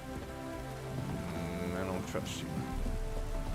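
Rain in The Witcher 3: Wild Hunt video game, a steady patter of drops on surfaces under a brief spoken line, with the downpour swelling a little louder toward the end.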